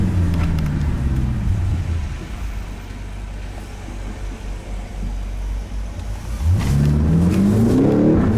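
A 575 hp BMW X5M F85 engine on city streets in Stockholm revs hard, drops to a quieter cruising rumble mid-way, then climbs through rising revs again, close and loud, with no talking.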